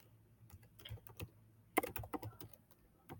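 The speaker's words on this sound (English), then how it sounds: "So I'm typing them, click add." Someone types on a computer keyboard in a quiet room, a close, faint burst of irregular key clicks with a sharper cluster partway through.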